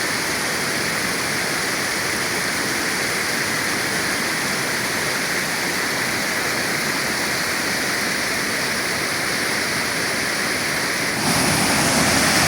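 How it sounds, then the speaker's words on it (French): Cascade du Cœur waterfall in pouring rain: a steady, loud broadband roar of falling water mixed with rain hiss, constant throughout with a slight rise near the end, no voices. "Sous cette pluie battante, on a la cascade du Cœur."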